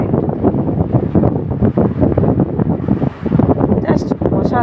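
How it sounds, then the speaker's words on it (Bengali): Strong sea waves crash at Digha beach as a loud, surging wash mixed with heavy wind buffeting on the microphone, rising and falling throughout, with faint voices at the end. "প্রচণ্ড ঢেউ"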